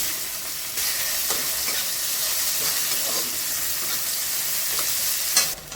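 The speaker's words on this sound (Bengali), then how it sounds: "প্রথমে নিচ্ছি শুকনো লঙ্কা, তেজপাতা, জিরে ফোড়ন, পেঁয়াজ কুচি দিয়ে দিচ্ছি" Dried red chillies, bay leaf, cumin seeds and chopped onion hit hot oil left from frying fish for a Bengali shol fish and radish curry, giving a loud, steady sizzle with occasional stirring scrapes throughout, no voices.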